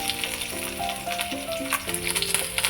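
Onion frying in a wok of oil with mustard seeds and cumin, a bright sizzle with crackles and spits, with a steady tonal hum or music running underneath.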